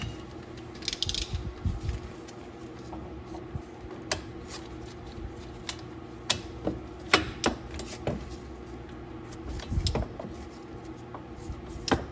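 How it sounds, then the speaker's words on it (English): A torque wrench tightens the front hub bearing bolts on a 2010 Town and Country, with repeated metallic clicks and ratcheting in short bursts, plus scattered clanks from close by. "Those you torque them in a crisscross pattern. So we're gonna do that right now."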